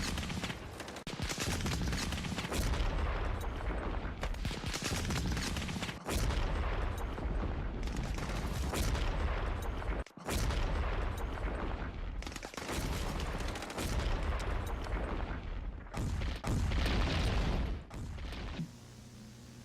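Heavy automatic gunfire from a World War I machine gun, loud sustained bursts of rapid shots separated by short pauses, dense and booming throughout.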